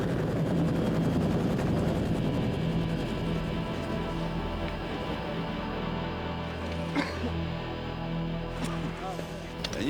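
A helicopter hovers low overhead during a film shoot, its steady, loud rotor roar filling the scene while people talk beneath it.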